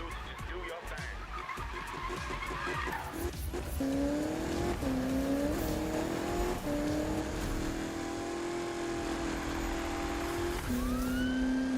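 A police car siren wails from Need for Speed 2015 during a night Gymkhana event, rising and sweeping in steady tones over loud engine roar and tire skids.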